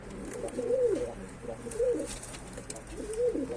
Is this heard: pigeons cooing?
yes